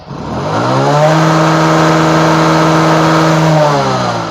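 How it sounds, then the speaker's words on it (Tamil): A motorcycle engine revved hard at full throttle, rising quickly to a loud, steady high-rpm drone that holds for a few seconds before easing off, close and alone with no voices. "ஃபுல் ரேஸ் பண்ணு"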